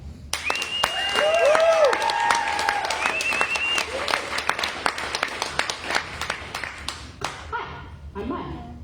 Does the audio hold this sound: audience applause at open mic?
yes